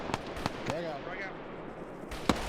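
Frag grenade going off in a multiplayer military shooter game: several sharp, booming bangs, the biggest near the end, with voices talking between them.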